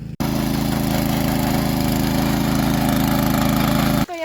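A tractor ploughs and levels a hillside farm field, its engine droning loud and steady at close range with a constant throb, then cutting off abruptly near the end.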